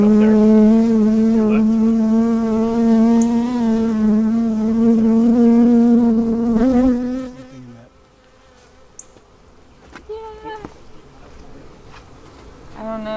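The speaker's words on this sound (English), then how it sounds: "I got a bee trying to sting my face. Yeah, there's a bee up there." Bees buzzing around a beehive at close range, a loud steady droning hum that holds for several seconds and then drops away, leaving fainter scattered buzzes.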